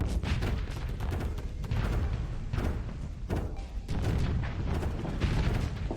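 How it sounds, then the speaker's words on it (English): Railgun barrage fired as a special ability in the space combat game Starsector: dense, continuous volleys of heavy booming impacts, with sharp cracks landing near 1.7, 2.6 and 3.2 seconds over a constant low rumble, loud throughout. "So I use the special ability to kind of make a barrage"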